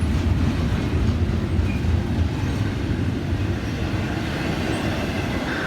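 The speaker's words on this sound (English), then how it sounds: "So this is FEC train" FEC train 103, pulled by GEVO locomotives, passes at Stuart, giving a steady, loud rumble of rolling wheels and cars that holds through the whole stretch with no voices.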